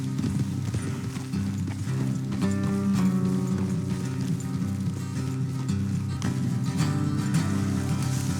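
Horse hooves clop in a quick galloping rhythm over a steady musical bed in Red Dead Redemption 2, continuous and fairly close throughout.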